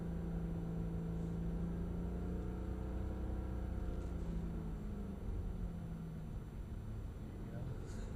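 Mercedes-Benz E63 AMG drifting on a track at Mercedes-Benz World, Brooklands, a steady low engine drone heard from inside the car under continuous talk from the occupants.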